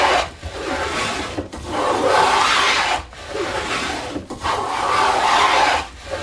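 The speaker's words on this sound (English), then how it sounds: "taking these shavings off like this." A hand plane takes shavings off a wooden workpiece in four long, loud rasping strokes, each separated by a brief gap, recorded close up with no talking.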